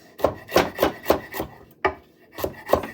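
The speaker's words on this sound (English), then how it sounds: "these cloves quite crudely because we're going to crush them in the spinning crusher blender" Garlic cloves crudely chopped with a knife for a garlic and ginger paste: about eight sharp, close chops in a quick, uneven rhythm with a brief pause partway through.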